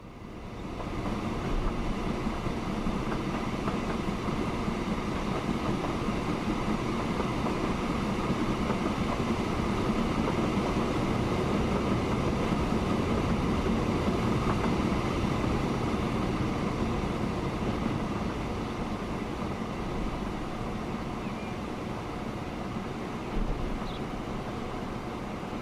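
A train runs in the rail-management game Transport Fever 2, giving a steady, loud, continuous rumble of wheels and carriages that holds evenly throughout with no voices over it.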